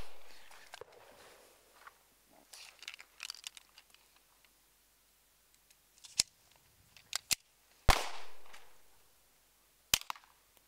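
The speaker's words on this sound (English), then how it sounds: "consistently able to get one round out of the gun and then it's not cycling properly" Simunition training rounds fired from a pistol that fails to cycle, a few sharp loud cracks spread across the clip, one with a trailing whoosh, mixed with faint clicks and handling noise between the shots.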